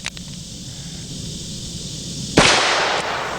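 A Dan Wesson handgun fitted with a ported shroud muzzle brake fires a single sharp, loud report partway through. The shot cuts through steady background hiss and leaves a brief ringing decay.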